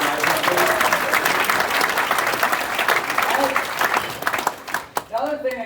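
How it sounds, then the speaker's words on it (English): A crowd at a baseball hall of fame induction ceremony breaks into loud, sustained applause that thins out near the end, with voices coming through as the clapping fades. "So a big round of applause for Heath Rylands and Wells Fargo Advisors"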